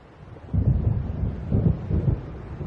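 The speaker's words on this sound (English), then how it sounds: "It seems there's a storm coming." An approaching thunderstorm in Alan Wake Remastered rolls in as low, heavy rumbles of thunder, swelling in two or three surges over a dim background of wind and water, with no talk.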